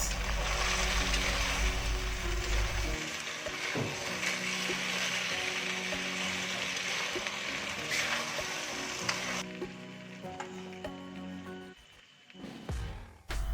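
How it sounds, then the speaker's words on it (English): Fried eggplant is stirred and sizzles in a hot wok, a steady frying hiss with scraping spatula strokes that thins out near the end. "put your fried eggplant and stir for about 1 minute"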